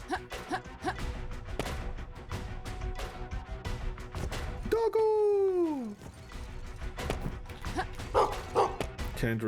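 Barking from a dog in the pixel-art steampunk Metroidvania game Gestalt: Steam and Cinder. Yips and whimpers rise and fall several times among busy game clatter and crashes, with a long whining cry in the middle.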